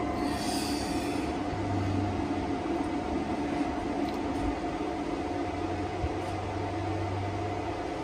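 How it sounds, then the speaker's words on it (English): Ista Breeze i1500 wind turbine on a roof building up speed, a steady droning whir with a low hum throughout, moderately loud and continuous, no talking. "now it's letting the turbine build up some RPM. I can hear it going up on the roof"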